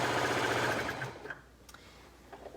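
A sewing machine stitches around an elastic casing, a close, fast mechanical whir for about a second that then stops, leaving faint handling clicks.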